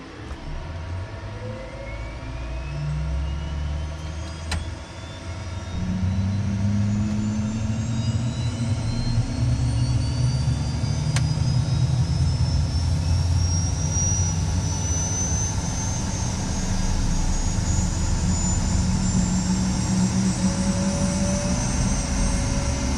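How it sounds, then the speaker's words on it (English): A Cessna Citation M2 business jet with an oil leak on its left engine spools that engine up, a rising turbine whine climbing steadily under a low, growing roar, loud and close throughout, no talk. "we're just gonna start the left engine"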